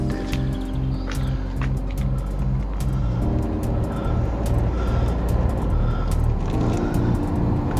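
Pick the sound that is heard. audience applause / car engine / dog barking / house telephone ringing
car engine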